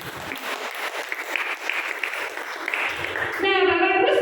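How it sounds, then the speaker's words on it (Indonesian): Applause from a church congregation, clapping that rises and blends with voices before a person begins speaking toward the end. "Tepuk tangan untuk dirinya sendiri."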